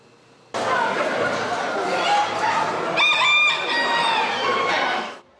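A rooster at the Bloomsburg Fair in Pennsylvania crows loudly and close by, one long drawn-out call in a livestock barn with background fairground murmur.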